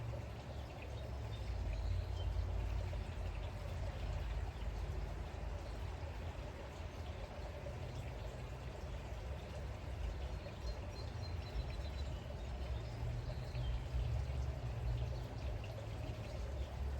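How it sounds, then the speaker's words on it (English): Liquid chlorine at 12.5% strength poured from a jug into a freshly refinished gunite pool, a steady faint splashing pour running unbroken throughout with no voices. "Very careful when you pour this."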